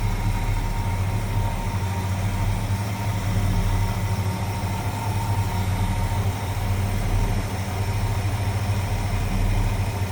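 A 1961 Ford Galaxie Sunliner convertible engine idling smoothly, a steady low rumble with an even, unbroken hum, heard close and alone.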